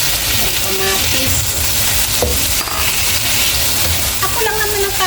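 Tomatoes sauté in a hot pan for a mussel dish, a loud continuous sizzle and crackle with stirring, heard close and dense throughout.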